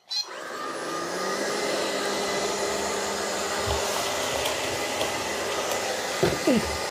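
An ILIFE V3s Pro robot vacuum runs on a hardwood floor with a steady, fairly quiet whirring hum, broken by a few brief bumps and clicks near the end.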